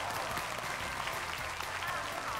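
Studio audience applause at a Chinese television talk show, a dense steady clapping throughout, fairly even and close, with voices blended underneath.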